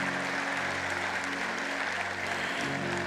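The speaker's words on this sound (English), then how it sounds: "Come on, give God a hand clap of praise" A church congregation claps steadily in a sustained, even wash of applause that stays at a moderate level, with a faint murmur of voices underneath.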